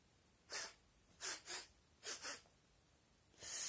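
A giant's loud nasal sniffs, a single one followed by two quick pairs and a final one, close and alone with no talking.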